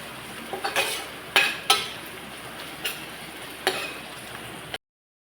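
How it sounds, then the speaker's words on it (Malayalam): Crushed masala, onion and garlic being sautéed in a pan for an ivy gourd stir-fry, with a few distinct spoon scrapes and clinks over a soft background sizzle, fairly close and without any talking. "മസാല ചതച്ചതും വെളു ഉള്ളിയും വെളുത്തുള്ളിയും നമുക്ക് നന്നായിട്ടൊന്ന് വഴന്ന് കിട്ടുന്നവരെ ഇളക്കിക്കൊണ്ടിരിക്കുക"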